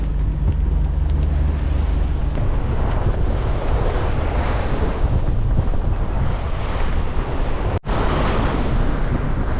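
Ocean waves and strong wind roar continuously around a sailboat motor sailing into the wind off Mexico's Pacific coast, with heavy wind buffeting on the microphone and a low boat rumble beneath.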